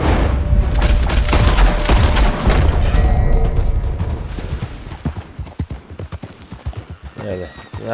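Horse hooves clip-clopping in Red Dead Redemption 2, a steady rhythmic trot that is loud at first beneath game noise and gunfire-like booms, then thins into sparser, fainter hoof falls.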